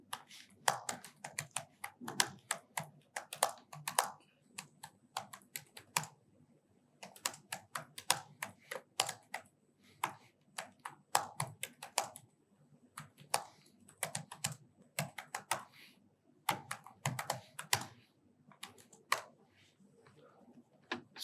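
Rapid clacking of computer keyboard keys as a ChatGPT prompt is typed, bursts of close, crisp keystrokes separated by short pauses, with no talking.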